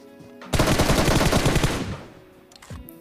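A loud burst of automatic gunfire in PUBG Mobile on the Livik map, rapid close shots packed together for over a second before trailing off into quieter game sounds.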